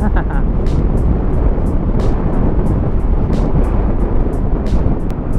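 A Honda ADX 160 scooter runs at full throttle, its engine drone buried in heavy, steady wind buffeting against the microphone, with no letup across the ride.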